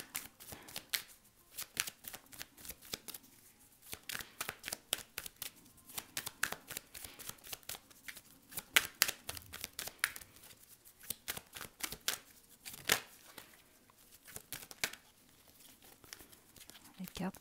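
Tarot cards shuffled close by in a quiet room: rapid, repeated riffling and slapping bursts in an irregular rhythm throughout, with soft speech faintly underneath.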